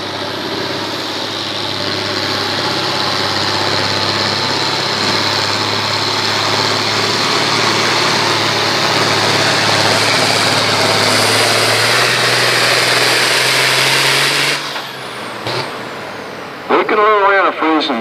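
An International 1206 tractor engine roars loud and steady at a pulling competition, a sustained heavy diesel drone that cuts off abruptly near the end, followed by brief voices.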